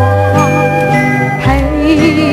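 Jingling bells ring within a 1967 Mandarin pop song, bright tinkling hits layered over a female vocal melody and orchestral backing, sounding continuously and fairly loud throughout.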